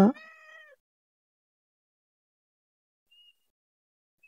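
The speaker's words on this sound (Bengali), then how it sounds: "এখন আমার সাথে হয়তো বিলাই আছে, যেদিকে যাচ্ছে সেদিকে যাচ্ছে" A single clear cat meow, loud and close at the start, followed by near silence with a couple of faint tiny sounds.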